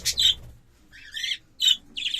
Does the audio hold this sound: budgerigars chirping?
yes